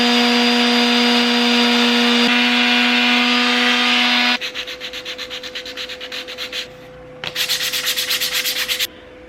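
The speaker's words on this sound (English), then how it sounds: "So now I'm going to start hitting them with 80 grit on the palm sander." A palm sander with 80-grit paper works over a prop crown, first a loud steady whir, then buzzy vibrating bursts as the sheet rubs the surface, close up and without speech.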